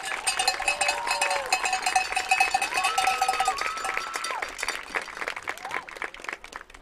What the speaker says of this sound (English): One more round of applause for our seniors